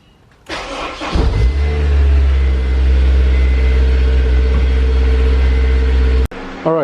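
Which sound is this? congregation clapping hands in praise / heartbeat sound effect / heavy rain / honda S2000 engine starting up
honda S2000 engine starting up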